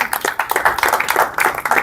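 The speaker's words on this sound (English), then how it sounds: "So you guys all deserve your own round of applause." Close, brisk hand clapping from an audience at an awards cocktail event, a dense patter of claps sustained throughout.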